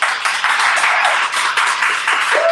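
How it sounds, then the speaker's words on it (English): Audience at an evening book event applauds the guests, a steady, dense wash of many hands clapping close and loud for the whole stretch, with a small rise and dip partway through. "Can we please have a round of applause for our guests?"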